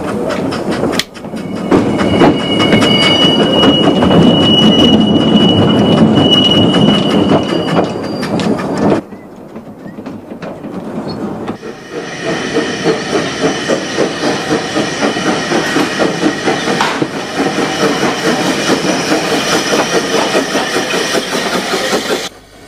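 La Panderola tram train runs on the Onda–Castellón roadside tramway, a steady rumble with hissing steam and rhythmic clattering of wheels on rails that changes character midway, with no voices.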